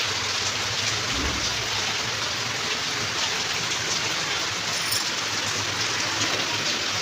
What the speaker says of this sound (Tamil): பயங்கர மழை பெய்யுது தெரியுதா?